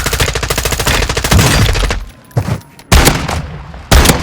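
Rapid automatic gunfire from a Call of Duty Modern Warfare II match rattles loud and close for about two seconds, followed by a few separate heavy shots and bursts with short gaps between them.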